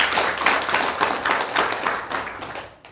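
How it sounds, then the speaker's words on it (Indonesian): People at an office year-end evaluation and work planning meeting applaud, a brisk burst of many hands clapping up close that gradually thins and fades toward the end. "Tepuk tangan"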